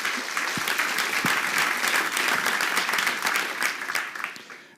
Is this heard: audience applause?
yes